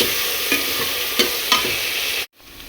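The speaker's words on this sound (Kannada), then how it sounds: "ಇದಕ್ಕೆ ಬಟಾಣಿ ಹಾಕಿ ಚೆನ್ನಾಗಿ ಫ್ರೈ ಮಾಡಿಟ್ಟು" Green peas frying in a pan and being stirred, a steady close sizzle with three soft scraping strokes of the spoon before the sound cuts off abruptly.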